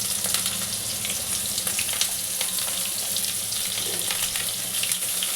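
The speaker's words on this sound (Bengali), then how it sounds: "একটু বেগুনগুলোকে আমি ভালো করে ভেজে নিই।" Brinjal (eggplant) pieces fry in oil for a mustard-poppy seed curry, giving a dense, steady close sizzle with faint crackles and stirring throughout, no voices.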